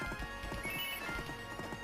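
Rhythmic clip-clop of horse hooves at a steady gallop over a bed of game music, fairly close and continuous.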